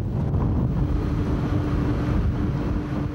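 Rough sea waves and strong wind batter a small 15-ton Chinese fishing boat struggling to hold its balance. The rushing wind and water make a constant, loud, close roar with no pauses.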